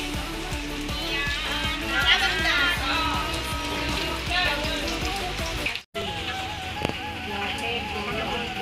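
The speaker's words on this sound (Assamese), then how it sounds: "চাওকচোন মোৰ জন্মদিনৰ দিনাখন বৰষুণটো" Steady rain patters throughout a household birthday gathering held with a Bhagavat recitation, a dense wash of drops running continuously beneath overlapping voices and household sounds, briefly cut out near the end.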